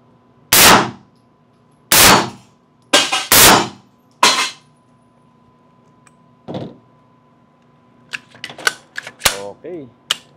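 Several sharp, loud 9mm pistol shots ring out at an indoor shooting range, spaced a second or two apart, then a burst of quicker metallic clicks and clatter near the end.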